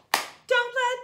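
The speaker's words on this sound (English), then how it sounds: "we get to clap our hands two times in this" Hand claps in a children's song at a music class, a sharp clap followed by a second beat as a sung voice comes in, close and clear.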